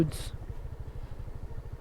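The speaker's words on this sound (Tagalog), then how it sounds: "Tahimik yung makina mga pare ko, tahimik." The Pertua Powertec 800 engine runs quietly at a low, steady idle with an even rhythmic thrum, faint and close.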